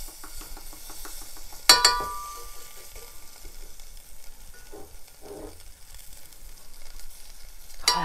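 Green bean casserole ingredients sizzling softly in a pan, a quiet steady crackle broken by a sharp clink of a utensil early on and a few faint stirring scrapes.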